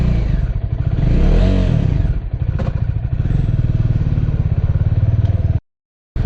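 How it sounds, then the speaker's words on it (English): Bajaj Dominar 400 single-cylinder motorcycle warming up after starting trouble from sitting unused, a loud close engine idle with a rapid steady thump, a brief rev swell early on, cutting off abruptly near the end. "warming it up for now, and we'll take it to Sushant soon for inspection"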